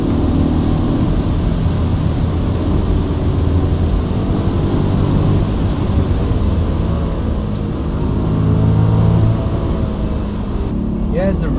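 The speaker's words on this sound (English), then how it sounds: "Such a small car, such a huge V8 engine" An Audi S4 Avant with a 4.2 V8 revs hard under way, a loud, continuous engine roar with rising pitch sweeps, while someone talks over it throughout.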